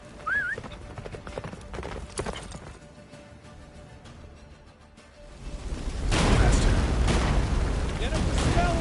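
Roach, a horse in a video game, galloping, rhythmic hoofbeats under shouted voices, then a loud rumbling boom swells and drowns the scene.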